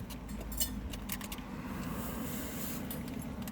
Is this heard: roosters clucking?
no